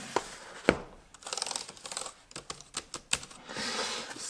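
Crisp key clicks on the keyboard of a Chuwi 10X tablet PC, tapped in short irregular bursts, close by, with brief pauses between runs of keystrokes.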